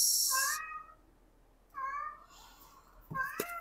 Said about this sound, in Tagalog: sorry kung naririnig niyo yung pusa nung kapatid ko